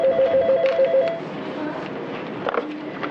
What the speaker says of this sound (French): le téléphone des secrétaires du service gynécologie de l'hôpital Bretonneau ne cesse de sonner